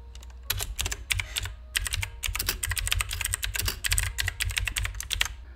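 Fast, steady tapping on a computer keyboard while text is entered into a Word document, with dense close key clicks and a few short pauses and no talking.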